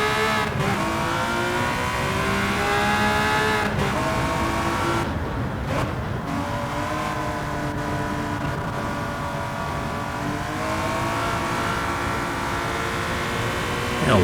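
A race car in Gran Turismo 7 accelerates steadily through a turn, its engine note climbing in a smooth sustained drone, loud and close throughout.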